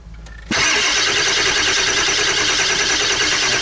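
A 2001 Ford E350 van with a 7.3 PowerStroke diesel engine, under rebuild, cranks briefly before catching and roaring to life. It then settles into a loud, steady, rough clatter at close range.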